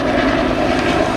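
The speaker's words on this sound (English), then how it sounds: "Helicopter's that then? That's not air ambulance, it's not police." A private helicopter passes overhead in the countryside, giving a loud, steady engine and rotor drone that fills the moment with no one speaking.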